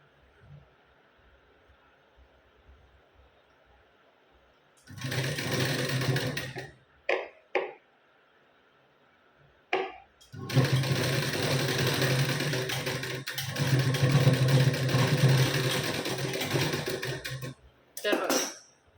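Sewing machine stitching a blouse seam in a bursts pattern, with a long loud run and several shorter spurts separated by quiet pauses.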